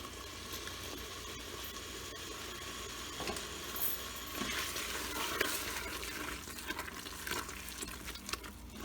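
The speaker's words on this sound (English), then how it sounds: "let me get a spatula so I can stir it up a little bit better" Fake mashed potatoes being stirred with a spatula inside an Instant Pot, a soft continuous scraping and squishing texture with a few louder scrapes toward the end, close by.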